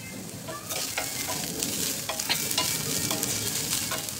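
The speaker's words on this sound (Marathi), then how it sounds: "कांदा छान परतलाय त्यामध्ये आलं लसूण पेस्ट घालायची।" Onion frying in a pan with ginger-garlic paste added: a steady, close sizzle with faint stirring scrapes throughout.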